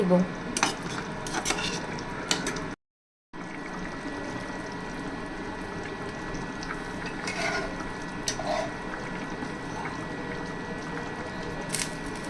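Fish pieces go into a pot of boiled bottle gourd curry, with a soft simmering hiss, occasional utensil clinks and stirring scrapes nearby, and a brief dropout partway through.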